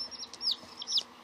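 A small yellow pet chick gives a few high, thin chirps close by, brief peeping calls in two short bursts against quiet background noise.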